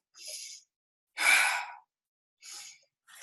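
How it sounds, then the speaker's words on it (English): Deep belly breaths taken slowly in a quiet room, three separate airy inhales and exhales with clear pauses between them, close and alone. "want to take deep belly breaths"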